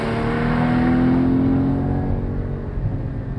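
A Porsche Cayman GT4 engine pulls hard in second gear, a loud, close and steady drone with rising pitch that eases off toward the end, with no talking.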